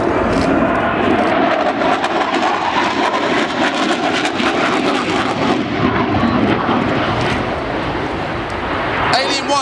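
Military jet roaring past at the Leuchars 2011 airshow while releasing flares, a loud sustained engine rush that stays strong throughout, with an announcer talking over it.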